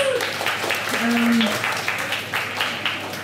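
An audience at a community night applauds a performer, a moderate round of clapping with a speaker's voice cutting in over it, heard from inside the room.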